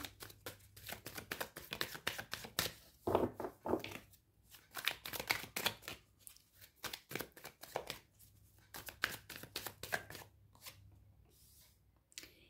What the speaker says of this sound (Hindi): फर्स्टली मैं शफल कर लूँ डियर अच्छे से